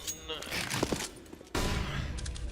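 Gunfire in the Counter-Strike video game, shot through a wall during a professional showmatch: a dense burst of rapid in-game shots over a busy mix, with a loud sharp crack midway, under faint crowd and caster noise.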